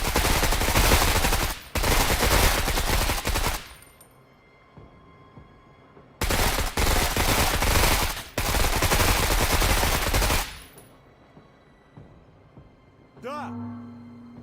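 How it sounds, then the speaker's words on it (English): Rifle fire in a video game comes as long, loud bursts of rapid shots in several sustained volleys with pauses between them, and a voice briefly speaks near the end. "I guess just use your base rifle and get rid of this thing."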